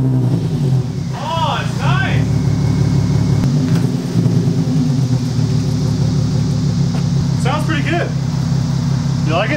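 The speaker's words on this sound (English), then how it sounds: "time for the first start with the new muffler delete" A Nissan 370Z with a muffler delete fires up and settles into a loud, raspy, rumbling idle close by. People talk briefly over the engine.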